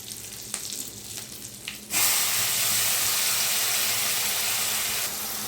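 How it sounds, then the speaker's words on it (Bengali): Water is poured into a mixer grinder jar while egg curry spice paste is prepared in a home kitchen. A steady, close rushing splash starts suddenly after a quiet stretch and keeps going evenly to the end, with no talk. "মিক্সিতে দিয়ে জলটা দিয়ে দেবো"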